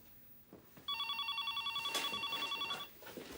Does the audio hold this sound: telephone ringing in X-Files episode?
yes